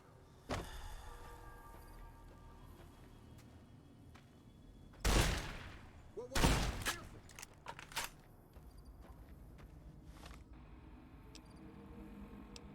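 Video game gunfire played on a Dell Inspiron 15 7000 gaming laptop, with a mercenary grenade rifle, comes as a couple of loud bursts in the middle of otherwise quiet room sound, plus scattered clicks and smaller shots.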